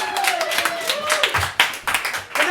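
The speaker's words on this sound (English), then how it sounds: "Give her a round of applause" Audience at a comedy variety show clapping, uneven bursts of claps under a person talking and lingering tones.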